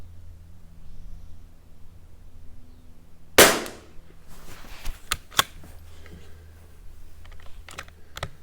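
A single sharp .22 LR rimfire shot from a Tikka T1x rifle cracks loudly mid-clip at an outdoor range, followed by a few fainter clicks and handling noises against quiet background.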